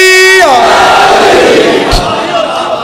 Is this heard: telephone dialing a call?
no